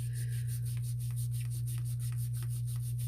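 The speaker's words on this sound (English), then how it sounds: "I need to go take this to the sink and clean it with a scrubber thing" A gelli printing plate is scrubbed clean at the sink, with quick repeated rubbing strokes over a constant low hum.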